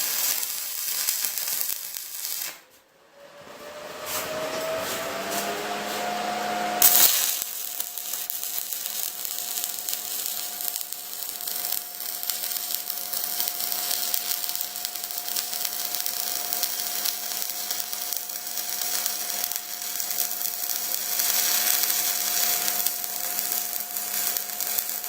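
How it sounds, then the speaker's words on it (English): Welding a spare tire holder onto a trailer, a continuous crackling sizzle of the arc running steadily after a short start, close and fairly loud. "So I'm going to put my first weld back here."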